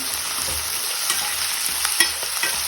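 Fenugreek leaves sizzling in hot oil as they are stirred, a steady close frying crackle with occasional spatula clinks and scrapes, no voices.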